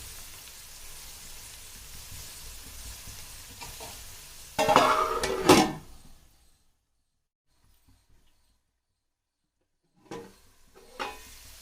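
Paneer veg biryani ingredients cooking in a pot, with a burst of stirring and sizzling that fades to near silence, then a few short scraping stirs near the end.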